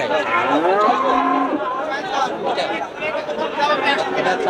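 A Holstein Friesian cow lets out a drawn-out moo close by, heard over a busy crowd of people chattering at a livestock gathering.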